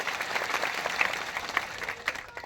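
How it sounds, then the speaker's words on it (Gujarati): Clapping from a crowd at a village mahapanchayat gathering in Chhota Udepur, a dense steady patter of many hands with no voices over it. "સૌને એકવાર જોરદાર તાળીઓથી વધાવી લો"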